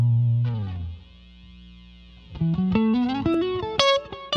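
Lead guitar runs through a black 1176 compressor set to a subtle 4-to-1 ratio and a digital reverb: a sustained distorted low note fades, then a quick climbing run of bright, biting notes rings out alone.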